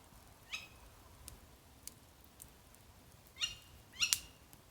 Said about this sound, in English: Sounds a bit like a kestrel.